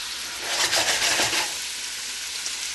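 Two large chopped onions hit hot olive oil in a pan for homemade chili, giving a loud, steady sizzle with a burst of crackling and stirring early on, then a calmer, even fry.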